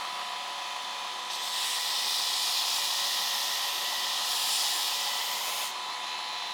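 A Shop Master 72-inch belt grinder runs a steel knife blade's flat into the corner of the grind, giving a loud steady abrasive hiss that swells when the steel meets the belt and eases at the end.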